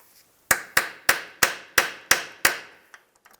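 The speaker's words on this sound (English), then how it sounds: "Just put the bolt back in and just use a hammer and tap it so you can separate that." A hammer taps a bolt put back in to separate a part during A/C condenser replacement on a 1999-2005 Volkswagen Jetta: seven sharp, evenly spaced metallic blows, close and clear, then a few faint small clicks.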